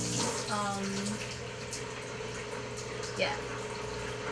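Steady rush of water filling an EdgeStar portable countertop dishwasher mid-cycle under a low mechanical hum, with a brief voice and a faint clunk near the end.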